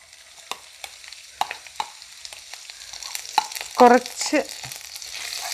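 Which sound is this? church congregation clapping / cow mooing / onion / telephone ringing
onion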